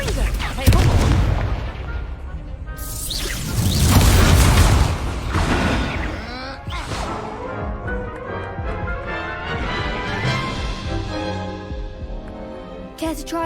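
Repeated Confringo blasting-spell explosions in the Hogwarts Legacy video game, several loud booming bursts with crackling decay, mixed with game effects and brief voices.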